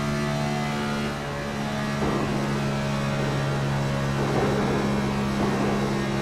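A NASCAR Gen 7 Cup Series race car at Charlotte roars steadily through turns 3 and 4, its loud engine drone broken by a few brief scraping thumps as it bottoms out.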